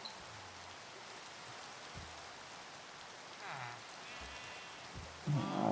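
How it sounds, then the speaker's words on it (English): Steady rain falls in Minecraft, a broad, even hiss that fills the whole stretch, with a few soft game sounds and a brief louder burst near the end. "There's that rain back again"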